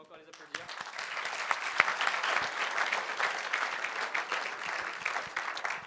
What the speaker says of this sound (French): Merci beaucoup, on peut encore les applaudir.